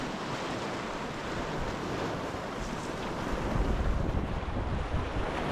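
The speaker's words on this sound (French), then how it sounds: "On a eu un peu de vent et un peu de vagues par moment," Wind and ocean waves at sea aboard a sailing catamaran on an ocean crossing: a continuous broad rush of wind buffeting the microphone over sloshing surf, growing louder toward the end, with no talk.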